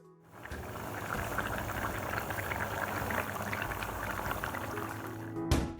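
Kerala-style Kottayam fish curry (meen mulakittathu) bubbling in a covered pot, a steady close simmering and boiling hiss that holds for several seconds, with no voices.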